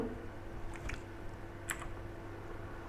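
Someone types on a computer keyboard, producing a few light, scattered key clicks close by over a steady background hum, without any speech.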